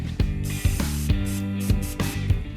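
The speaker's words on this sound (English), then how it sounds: "Get some carb cleaner on there." Carb cleaner sprayed from an aerosol can onto a fat swab while cleaning a motorcycle carburetor, several close, loud hissing bursts in quick succession broken by short pauses.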